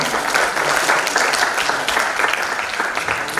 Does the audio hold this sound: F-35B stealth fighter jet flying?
no